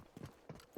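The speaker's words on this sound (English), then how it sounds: "I'm going to turn this up just a little bit so you guys can hear the footstep audio." Footsteps in the video game Delta Force Hawk Ops, Hazard Operations extraction mode: a few soft, quiet, clip-clop-like steps in uneven rhythm.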